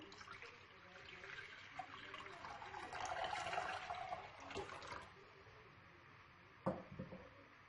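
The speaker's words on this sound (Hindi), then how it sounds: "अब मैंने एक बाउल ले लिया है, इसके अंदर मैं पानी डाल दूंगी।" Water poured into a bowl while making a jaggery summer drink, a steady broadband splashing stream that swells in the middle and tapers off, with a brief louder splash near the end.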